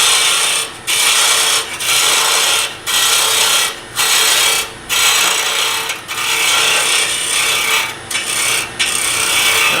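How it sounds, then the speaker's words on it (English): Hand plane shaving wood on a turned tool handle, a series of about nine loud rasping strokes close by, each a second or so long with brief pauses between. "And I actually can plane right across here if I wanted to."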